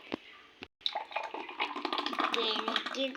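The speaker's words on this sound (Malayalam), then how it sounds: "ഇനി നമുക്ക് ഗ്ലാസ്സിലേക്ക് ഒഴിച്ച് കുടിക്കാം" Mango juice poured from a mixer jar into a glass, a quiet trickling and splashing stream after a couple of brief taps, continuous for a few seconds.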